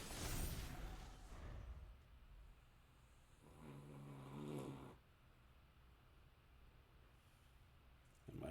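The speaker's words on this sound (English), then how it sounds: "And my dog is snoring." A dog snores quietly nearby, slow rasping breaths rising and falling in a steady rhythm against a quiet room.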